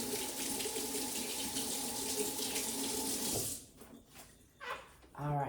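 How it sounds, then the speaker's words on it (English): Hands are rinsed under a running kitchen tap, a loud steady gush of water close by that stops abruptly, followed by quieter handling noises and a brief voice. "Give my hands a little rinse."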